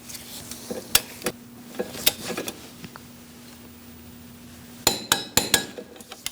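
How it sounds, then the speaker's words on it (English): Torque wrench tightening a bolt on a 2000-2006 Mini Cooper during a camshaft position sensor replacement, giving sharp metallic clicks and clinks, scattered at first, then a quick cluster near the end over a faint steady hum. "We're going to torque this one to 50 foot-pounds."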